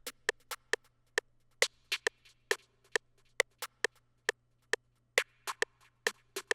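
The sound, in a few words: snare drum pattern in FL Studio beat with metronome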